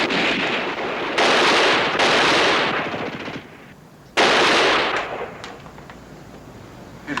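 Soldiers fire rifles and machine guns in a WW2 TV war drama, with loud, close rattling bursts of automatic fire that stop and start again, followed by fading echoes and scattered shots.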